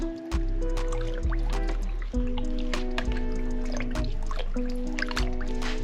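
Shoe dye being stirred in a container, with a run of close, wet liquid sloshes and drips in an irregular rhythm over a steady low background hum.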